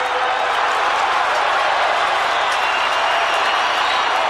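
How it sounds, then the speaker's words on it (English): A football stadium crowd roars before a 1990 AFL semi-final between Essendon and Collingwood, a dense, continuous wash of cheering that holds loud and steady throughout, with no distinct voices. "So the crowd has a chance to get a bit of wind out of the lungs prior to the game"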